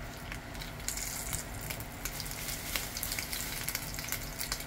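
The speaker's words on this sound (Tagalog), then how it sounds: "Prito lang natin yung tuyo natin hanggang maging crispy." Dried salted fish frying in a pan to crispness gives a steady, close sizzle with crackling pops and spatter throughout, fairly quiet and heard alone.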